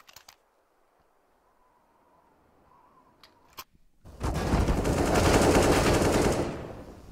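A few sharp clicks and isolated shots, then a loud sustained burst of automatic gunfire in Counter-Strike on the map Nuke, during a match between EG and 100T, dense and close, easing off at the end.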